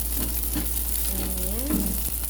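Garlic sautés in a pan while cooking monggo with sardines, a close, steady sizzle with light stirring scrapes and a faint hum underneath.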